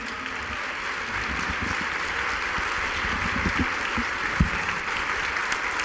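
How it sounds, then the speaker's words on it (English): Warm, sustained applause from a luncheon audience at a Chicago speaker series event, a dense steady wash of many hands clapping that continues throughout with a few sharper claps standing out near the end. "Let's give Kenneth Cole a big, warm, loving Chicago round of applause, everybody"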